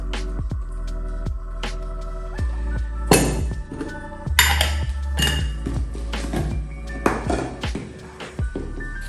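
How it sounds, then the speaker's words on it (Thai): Tea filter sheet placed into a Moka pot: a series of close, sharp metallic clinks and knocks, irregularly spaced with a few louder clattering hits, like metal parts being handled and set together. "ใส่แผ่นกรองใบชานะครับ"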